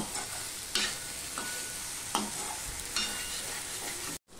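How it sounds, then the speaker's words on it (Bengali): Steamed arum lobes stir-fry with spices in a pan, with a quiet continuous sizzle broken by a few sharp scrapes and knocks of a spatula, then a brief cut to silence near the end. "এবার লতিগুলো দিয়ে আমি এই মশলার সাথে আমি কষিয়ে নেব"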